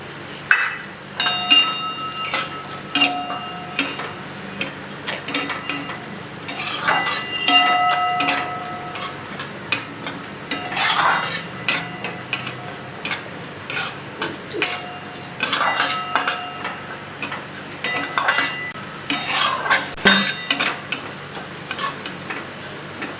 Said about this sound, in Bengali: একটু ব্রাউন করে ভাজতে হবে